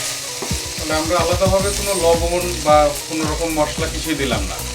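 Sliced mushrooms and chicken sizzling in butter in a pan as a mushroom-chicken vegetable sauté is stirred, with repeated scraping strokes in an uneven rhythm over a constant close fry, no voices present.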